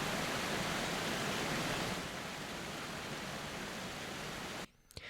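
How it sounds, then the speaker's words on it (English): Dense, steady roar of a waterfall, loud and unbroken, easing slightly midway before a sudden drop near the end. "you still hear that waterfall"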